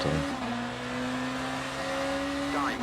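Ferrari race car engines in the Le Mans Ultimate racing game at Spa: a steady, loud engine drone holds near, then a rising rev sweeps up at the end as cars push to get past, with talk over it.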